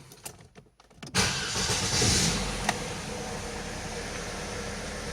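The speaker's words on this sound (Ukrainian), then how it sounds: "Проблему вирішено, авто запускається" An Opel Vectra C with the Z22SE engine cranks briefly after a few soft clicks, then catches and settles into a steady, close idle hum.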